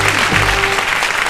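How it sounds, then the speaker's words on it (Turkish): Quiz show studio audience applauding a contestant, a brief, loud burst of clapping with a low tonal hum beneath it in the opening moments. "Alkış İlke'ye"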